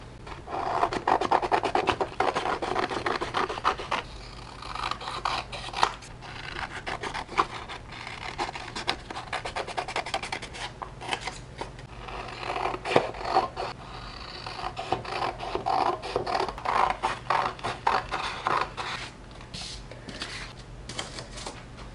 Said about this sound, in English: So yeah, I'm gonna go ahead and cut it out.